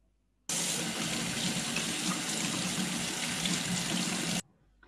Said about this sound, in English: we distinguish the sound of water